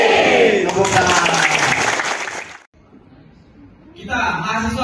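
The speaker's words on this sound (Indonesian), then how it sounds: "Tepuk tangan." New university students at a soft-skills training session clap and cheer together in a loud burst, then fall quiet before a voice starts up again.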